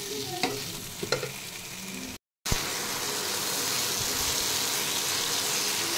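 Chili sauce and tomato ketchup are stirred in a hot pan, starting with a moderate sizzle and a few spoon taps, then a brief cut of silence before a louder, dense, steady hiss resumes.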